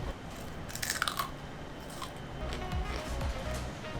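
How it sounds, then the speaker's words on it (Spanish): Crispy fried Colombian pork rinds (chicharrón) bitten and chewed up close, giving a few sharp crunches followed by quieter chewing, with no talking. "Como se los prometí, un chicharrón totalmente crujiente."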